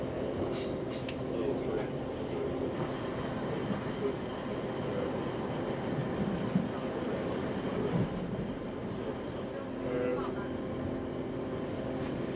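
Passenger train running along the Crewe to Manchester main line near Edgeley, Stockport, a steady rumble and whine of wheels on track heard from inside the carriage, with faint clicks of rail joints throughout.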